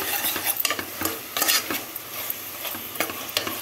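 Ginger paste frying in a pan while being stirred, close sizzle broken by frequent scraping and clinking of a spoon against the metal, fairly loud with uneven rhythm and no talking.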